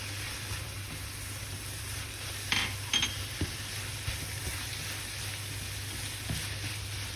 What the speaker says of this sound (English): Fry for about 2 minutes, then add some salt.